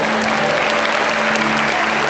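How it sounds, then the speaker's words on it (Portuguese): Dense, continuous applause fills a church service, a loud unbroken roar of many hands clapping with no pauses. "Quem pode aplaudir a Ele?"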